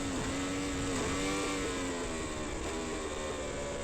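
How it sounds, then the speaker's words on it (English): A Yamaha R1 superbike engine at a race track, a deep throaty drone with shifting pitch as it pulls down the straight, steady and continuous with a slight rise and fall. "that throaty verbal of the Yamaha R1 as opposed to the shriek of the GSX R1000R of Robbie Bugden in the front."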